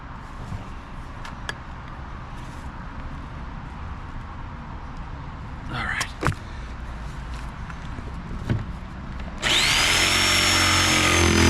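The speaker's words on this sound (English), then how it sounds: "I've got to basically create a pilot hole for that saw to go into. And then I'll be able to actually just start cutting out." Power saw cutting a deck extension for an old bass boat: a quiet stretch with a few brief clicks and knocks, then a loud continuous whining cut starts abruptly and carries to the end.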